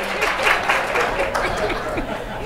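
Applause from an audience at a 2017 Albuquerque mayoral forum, a brief steady patter of clapping mixed with crowd murmur and a bit of chatter.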